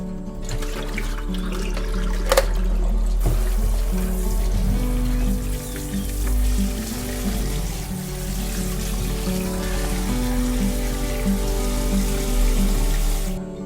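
Tap water runs steadily into a sink while fresh chili peppers are washed, a constant close splashing rush with a few brief clatters and no talking.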